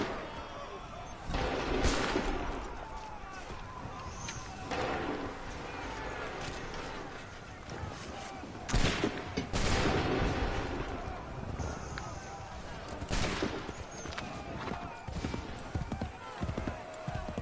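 Volleys of musket gunfire in Assassin's Creed 3 crack in several bursts over battle noise, with shouted commands heard throughout.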